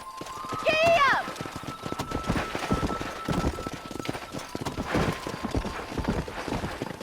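A horse gallops with steady clip-clop hoofbeats during a cattle-herding ride in the Western video game Red Dead Redemption. The hooves run continuously beneath a brief high whinny-like call near the start.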